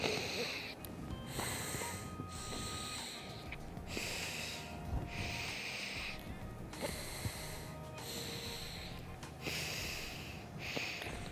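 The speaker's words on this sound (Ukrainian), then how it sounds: "ви чули, що я зараз голосно дихала" Steady, loud breathing through one nostril, with strong rhythmic inhales and exhales repeating about every second and a half, close to the ear, with no talking.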